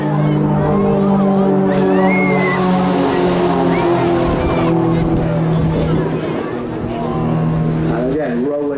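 Propeller aerobatic aircraft of the Titans Display Team at the Teignmouth Airshow drone with a steady, rising and falling engine tone, heard under loud public-address commentary and crowd noise.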